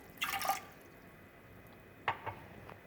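Water is poured into a small pot to start a jaggery syrup, two brief, soft splashing bursts, close but quiet, separated by a moment of near silence.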